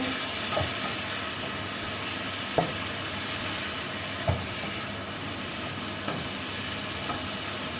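A spoon stirs a frying pan of prawns seasoned with pepper, making a steady loud sizzle broken by a few evenly spaced scraping strokes, with no talking.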